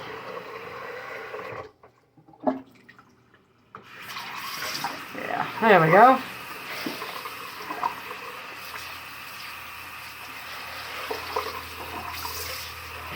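Hot water runs into a sink with a steady splashing hiss, briefly interrupted, while a person speaks a few words over it.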